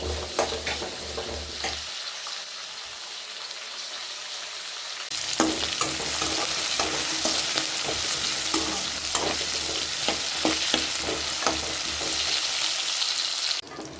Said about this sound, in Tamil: நல்லா கலர் மாற வரைக்கும் நல்லா வதக்கி எடுத்துக்கலாம்